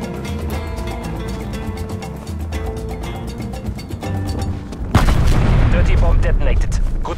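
A dirty bomb detonates in Call of Duty: Cold War, a sudden loud, close blast that cuts in over ongoing gunfire and game noise and then rumbles on with heavy, sustained low roar.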